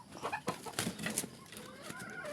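A gamecock, a fighting rooster, clucking close by in a few short irregular bursts, fairly quiet, with soft background noise between the calls.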